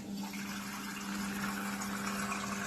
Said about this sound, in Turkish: Şu an suyu çekiyor.